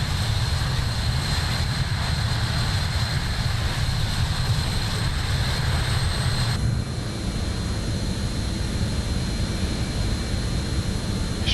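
JustFlight Avro RJ 100QT, a four-engine regional jet, taking off in Microsoft Flight Simulator: a steady engine roar with a high whine, holding constant and then shifting tone partway through as the climb begins.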